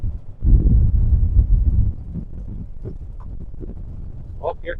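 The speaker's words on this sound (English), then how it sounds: "The wind's gonna blow them over here. A little windy today." Gusty wind blowing outdoors around a backyard hen run, buffeting loudly in a low rumble for the first couple of seconds and then easing to a softer steady rush, with a person talking over it.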